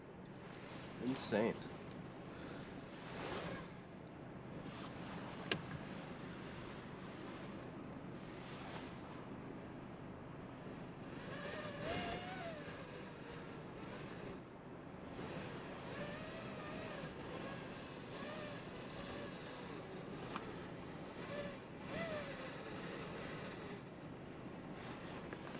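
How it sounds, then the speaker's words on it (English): Strong blizzard wind gusting in West Michigan, a steady roaring rush with microphone buffeting throughout, heard close while someone talks over it. "Hear that wind."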